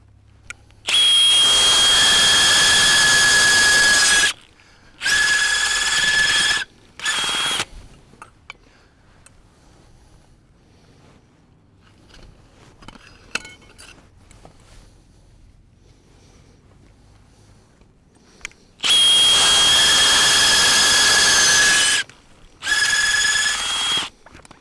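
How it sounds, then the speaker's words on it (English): A coring device drills through the plastic wrap into a haylage bale in the field, sounding as several loud, sustained whining bursts that stop and start, with quiet outdoor background between them. "We use a coring device like this to cut through the plastic and into the center of the bale."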